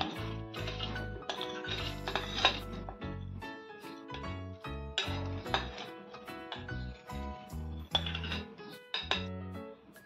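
Washed masoor dal goes into a pressure cooker in a home kitchen, with a string of close metallic clinks, taps and knocks against the pot arriving in irregular bursts, fairly quiet and with no talk.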